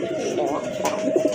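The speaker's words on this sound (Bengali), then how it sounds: "এই যে বাহিরে যেটা দাঁড়াইছে এটা কিন্তু নর কবুতর, খুবই অ্যাক্টিভ আর রাগী কবুতর।" A male pigeon in a cage coos nearby, a low, rolling call repeated a few times, while someone talks over it.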